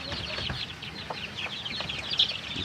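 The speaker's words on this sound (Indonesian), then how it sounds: "ini juga anak ayam yang" Young white village chicks peep in quick, high, chirping bursts, several overlapping calls close by at moderate volume with faint clucking in the background.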